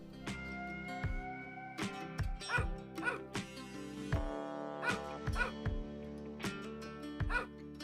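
A domestic dog barks and yips repeatedly in short, uneven bursts over steady background music.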